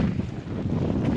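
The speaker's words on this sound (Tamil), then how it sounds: "காற்று வேறு கண்ணா பின்னாடி அடிக்குது," Steady gusting wind at Maruthanathi Dam viewpoint buffets the microphone, a constant low roar with rushing noise and no voices.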